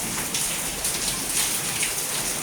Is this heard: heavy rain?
yes